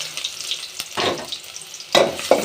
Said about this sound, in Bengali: পেঁয়াজটা দিয়ে আমি এখন নাড়াচাড়া করব।